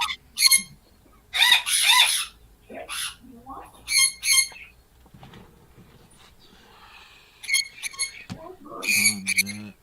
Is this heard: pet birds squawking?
yes